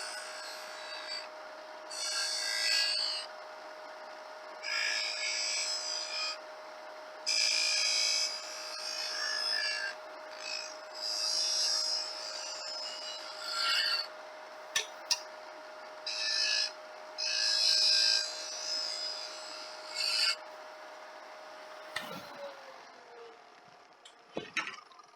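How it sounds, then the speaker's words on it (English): A wood lathe shapes a turned piece into a rounded point, with repeated bursts of scraping and cutting over a steady motor hum, then the whine winds down as the lathe stops. "There is nothing wrong at all with stopping the lathe and looking at your progress."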